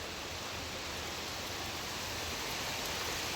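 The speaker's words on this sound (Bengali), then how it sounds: "ভালো বৃষ্টি হইতেছে" Heavy rain pours over flooded vegetable plots, a dense, steady, close hiss that holds at even loudness throughout with no voices.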